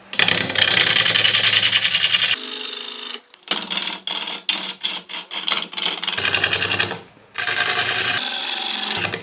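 A wood lathe turns a closed-form bowl while a gouge cuts along the tool rest, giving loud rasping, scraping bursts. Long continuous cuts alternate with a run of short rapid strokes separated by brief pauses.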